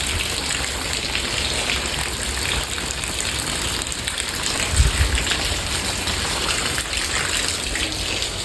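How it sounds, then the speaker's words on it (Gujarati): Steady rain falls continuously, a dense, even hiss of drops on surfaces with no voices. "અહીંયા વરસાદ હજી ચાલુ જ છે"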